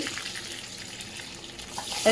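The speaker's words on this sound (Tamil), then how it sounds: "இப்போ கருவேப்பிலை போட்டு வெடித்தாச்சு வெடித்து தாளித்தாச்சு" Mustard seeds and curry leaves crackle and sizzle in hot oil as a tadka for chutney, a steady close hiss with scattered small pops throughout and a brief louder spatter at the end.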